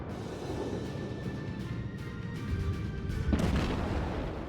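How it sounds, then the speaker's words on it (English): Naval artillery in the World of Warships game, a ranging shot and other incoming shells from the Erie, heard as muffled booms and rumbling impacts under constant sea and engine ambience, with a heavier blast toward the end. "That was only actually a single ranging shot from me, the other shells came from somewhere else."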